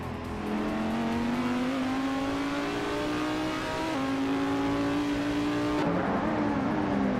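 A 2014 BMW M235 race car engine in iRacing drones steadily at high revs, pitch climbing slowly through a gear, then dipping briefly at a shift near the end before rising again, loud and continuous with no talk.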